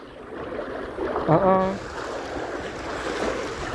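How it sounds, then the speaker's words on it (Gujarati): Rain falling on a road flooded knee-deep near Hadmatiya on the Bhatiya–Bhogat road, a steady rushing wash of water with wind, broken near the middle by a brief tonal voice-like call. "ધીમે ધીમે વરસાદે પણ ચાલુ થયો"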